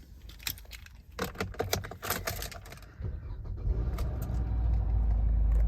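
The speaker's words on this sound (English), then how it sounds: "We'll start the car." Keys jingle and rattle briefly, then a 2018 Hyundai Tucson Active X engine cranks and catches, settling into a steady low idle rumble that grows louder.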